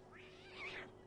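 A frightened little cat in the PlayStation game Mulan lets out one short, high meow that rises and falls, heard alone over a background hum.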